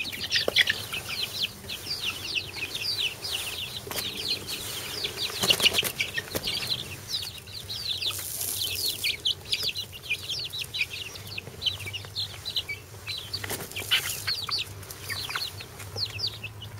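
Young chickens cluck and chirp steadily in their new barn house on a warm day, a busy chorus of close peeping with occasional wing flaps and soft rustling.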